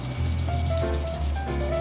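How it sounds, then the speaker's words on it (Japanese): Wet sanding with 800-grit sandpaper on a 1/12 Tamiya Porsche 934 Jägermeister plastic model kit body: a steady, close rubbing scrape, continuous and even with slight rhythmic strokes, no talking. "これからこうやって磨いていくんで、 これちなみに800番ね"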